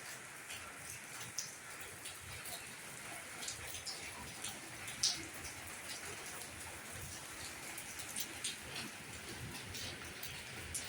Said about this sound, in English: My people, rain.